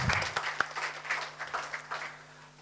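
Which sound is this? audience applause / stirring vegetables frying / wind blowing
audience applause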